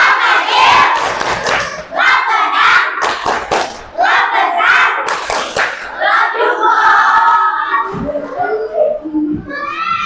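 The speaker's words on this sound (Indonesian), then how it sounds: "Baik, sekarang kita tepuk cinta." A classroom of children performs the 'tepuk cinta' clapping chant, loud group voices chanting together over bursts of rhythmic hand claps and thumps, filling the room close by.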